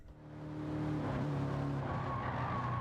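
A car in a racing video game skids out of control, its tire squeal rising into a sustained high whine over a strong engine drone for nearly three seconds, loud and steady with no speech.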